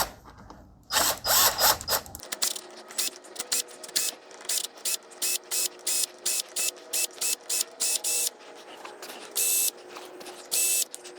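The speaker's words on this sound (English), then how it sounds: "We've got 5 bolts there. They are 10 millimeter. Use my little wrench." A small ratcheting wrench loosens the 10 mm bolts on a motorcycle clutch cover, giving quick clicking ratchet bursts in an irregular stop-start rhythm, close and fairly loud, with no talking.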